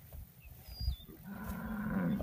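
Registered Hereford bulls and cattle on a ranch give a low, drawn-out moo that swells in the second half, over a background of shuffling and outdoor noise.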